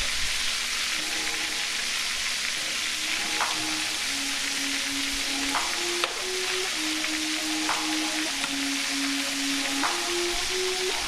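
Stuffed squid fry in hot oil with a steady, loud sizzle and crackle, with a few soft clinks as the pieces are turned over. A faint tonal hum runs underneath.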